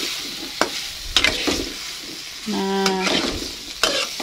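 Tempe bacem with water in a pan sizzles gently as it is stirred, with several short scraping clacks of a utensil against the pan and a brief voice.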